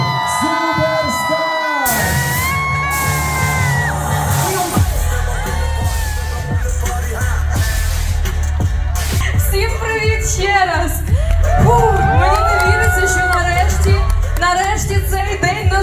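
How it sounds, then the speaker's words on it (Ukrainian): Crowd cheering, whoops and yells greet a woman taking the stage at a short-video academy graduation event in Kyiv, loud and continuous with shouting voices and bangs throughout. "Зустрінемо її саме зараз під ваші оплески"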